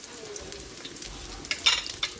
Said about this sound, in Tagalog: Magigisa na tayo para sa ating sarsyadong kamatis.